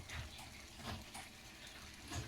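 Tap water running into a bowl in a home kitchen, a faint, steady gushing splash lasting a couple of seconds with no talk.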